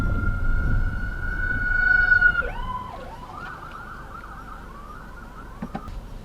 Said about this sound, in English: Got an emergency vehicle coming up behind me here.